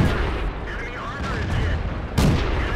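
Tank cannon shot in a tank battle game on the El Halluf map, with one sharp, loud blast near the end standing out over steady rumbling engine and battle noise, and a commentator speaking underneath.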